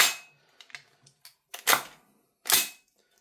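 An HK416A5 airsoft rifle fired on semi-auto gives several sharp, separate cracks, spaced irregularly and close by, with small mechanical clicks between the louder shots.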